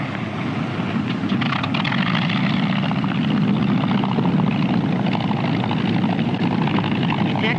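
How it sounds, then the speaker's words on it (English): A Supermarine Walrus seaplane flies slowly and low over the water before alighting, its propeller engine giving a steady, loud, close drone with no voices. "He's coming in, flying slowly and using his engine."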